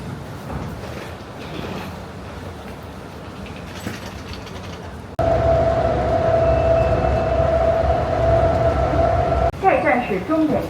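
An airport concourse train at Incheon International Airport runs with a steady loud rumble and a sustained tonal whine after a sudden start, following softer terminal noise and people talking.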